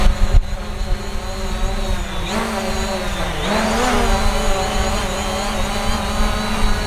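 Hubsan Zino drone hovering in wind, a loud, steady, close buzzing whine with pitch wavering and rising as the rotors fight gusts, wind noise underneath, no voices.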